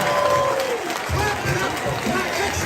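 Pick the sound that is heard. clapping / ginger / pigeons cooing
clapping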